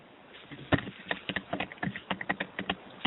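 Irregular clicks of someone typing on a computer keyboard, crisp individual keystrokes in uneven bursts, fairly close and heard alone over a quiet background.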